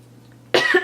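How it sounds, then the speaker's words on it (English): A single short, sharp cough breaks a quiet room, sudden and close after a moment of near silence. "I still have this cough"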